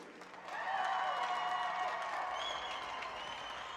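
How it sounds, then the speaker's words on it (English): A crowd at a Tier 1 18U tournament awards ceremony applauds the champions, a sustained swell of clapping that rises sharply after a half second and holds steady, heard from a moderate distance. "Now, a round of applause for this year's Twisted Rooster Tier 1 Tournament Champions, Team Wyoming."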